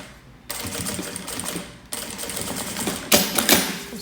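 A straight-stitch sewing machine stitches a wallet in three quick, rapid-fire runs, loud and close, with brief pauses between them and a sharper, louder final stretch.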